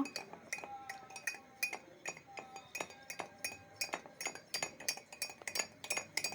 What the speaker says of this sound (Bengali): এখানে আমি 1 চায়ের চামচ মধু নিয়েছি। মধুটা দিয়ে একটু নেড়ে ছেড়ে নেব।